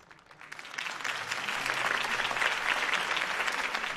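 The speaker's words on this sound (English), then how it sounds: "Mr. Wayne, my campaign's largest backer, could have heard that applause" A crowd applauds in a video game scene, the clapping swelling quickly and then holding as a dense, steady roar.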